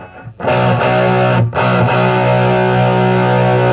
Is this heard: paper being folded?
no